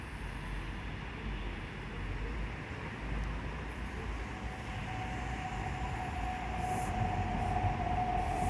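SEPTA one-car shuttle train on the three-station Kingwood Line, a steady rumbling rail roar with wheel noise that holds evenly throughout and gains a thin squeal near the end.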